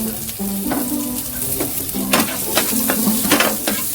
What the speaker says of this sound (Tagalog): Ayan, lagay natin ang ating sibuyas.